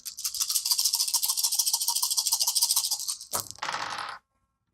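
Two dice rattle rapidly in a cup during a tabletop game, a dense burst of clicking for about three seconds, then a short clatter as they tumble out and settle, close and fairly loud.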